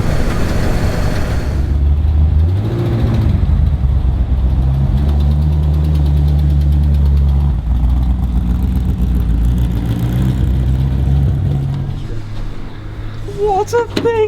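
A powerful car engine idles with a deep rumble, then revs up and holds a loud, throaty drone before settling back, close by with brief voices near the end.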